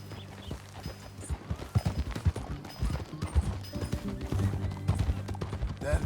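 Horse hooves clip-clopping at a walk in the video game Red Dead Redemption 2, a steady soft rhythm under ambient game sounds with faint background tones.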